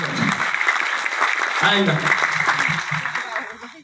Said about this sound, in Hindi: वो लीडरशिप का एक बार बढ़िया ताली बजाएंगे